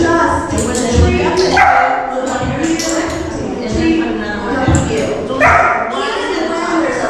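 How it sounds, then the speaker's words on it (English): Dogs bark and yip in a busy puppy preschool class, several close and others farther off, in repeated bursts under a steady murmur of people talking. "even when there's other dogs barking"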